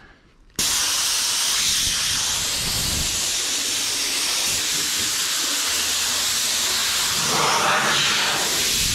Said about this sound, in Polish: Sprężone powietrze.